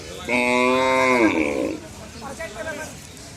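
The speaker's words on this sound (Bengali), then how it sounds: "দেখছেন বা দেখতে পাচ্ছেন আপনারা গরুগুলা" A single loud, drawn-out cow moo close by at a cattle market near the India-Bangladesh border, followed by faint talking.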